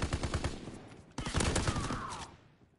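Rapid gunfire in a competitive video game gunfight at the B site, two quick bursts of automatic shots, the second louder and trailing off.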